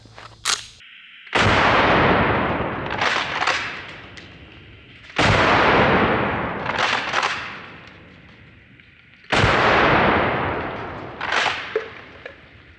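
Three loud, close gunshots fired at targets, spaced a few seconds apart, each a sharp blast followed by a long rolling echo and smaller trailing cracks, with no talking.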